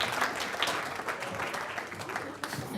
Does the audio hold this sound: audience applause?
yes